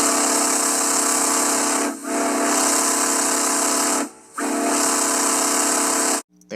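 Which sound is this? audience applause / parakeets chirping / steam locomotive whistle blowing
steam locomotive whistle blowing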